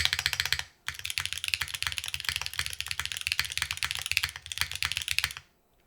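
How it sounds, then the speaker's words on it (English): Rapid, bright clacking of a Qi65 mechanical keyboard being typed on steadily, close up, with a brief pause near the start and the end. "this is a very bright keyboard"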